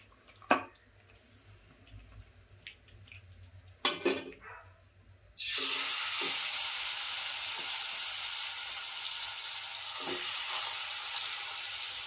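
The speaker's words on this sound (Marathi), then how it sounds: "वाटण लावून फोडणीला टाकते" A few sharp clatters, then a loud, steady sizzle bursts in as a ground masala paste hits hot oil for tempering and keeps crackling, close and alone, to the end.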